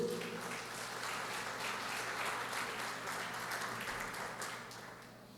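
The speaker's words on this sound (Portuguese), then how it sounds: "aplauda o Senhor Jesus" A church congregation applauds during a sermon, a dense, steady wash of clapping heard at moderate distance over a low hum, gradually fading toward the end.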